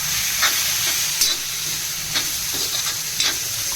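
Garam masala stirred into a wet prawn masala curry frying on a griddle, a continuous bright hissing sizzle with several brief scraping stirs, close and fairly loud with no talk.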